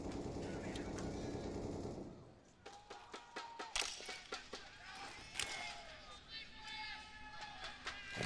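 AK-47 fire in Counter-Strike on Dust2 at a pro match: bursts of sharp rifle shots and separate single taps ring out, with faint crowd and commentary noise beneath.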